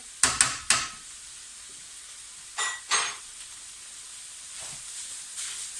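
Tomato puree being stirred into a pan of cooking bolognese sauce, giving a few short, close sizzling scrapes near the start and again midway, with quiet simmering between.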